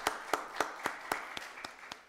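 At a Rockdale County Board of Commissioners meeting, hands clap for the director in a sparse, even rhythm of about eight distinct claps over two seconds, quiet and close, with no crowd swell.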